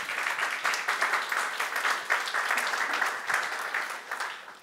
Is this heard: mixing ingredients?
no